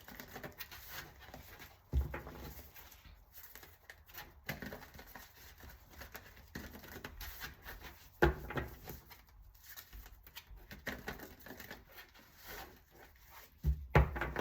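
Tarot cards are shuffled in soft, papery bursts of riffling and patter, close and quiet, with a few sharper taps at intervals across the stretch.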